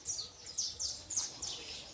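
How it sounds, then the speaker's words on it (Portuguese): Birds call in a backyard garden with doves nearby, a run of bright, short chirps repeating every half second or so, fairly close over quiet background. "A pomba trocal tá rodeando aqui querendo descer para comer."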